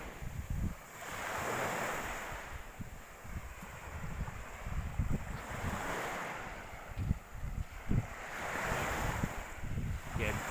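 Surf rolling onto a beachfront in Tacloban, Leyte, with waves swelling and washing in slow repeating surges under steady wind buffeting the microphone, with faint low rumbles between.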